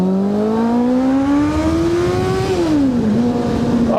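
A Suzuki Bandit motorcycle revs while riding along a country lane, its engine note climbing steadily, then dropping sharply as the throttle closes and settling before picking up again, loud and close with wind rush beneath.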